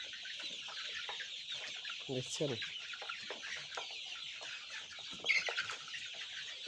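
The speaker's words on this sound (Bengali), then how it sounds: "লেয়ার মুরগি পালন করতে হলে" Clucking of 50-day-old layer hens on a poultry farm, a dense steady chorus of many birds nearby with a few louder individual calls, while someone talks briefly over them.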